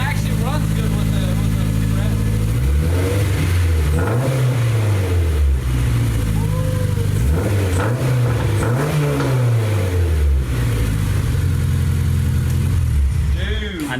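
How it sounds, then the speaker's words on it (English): Rebuilt Honda S2000 engine idling, then blipped through several rising and falling revs, loud and close, with a voice talking briefly over it. "But I do want to give it a few revs though."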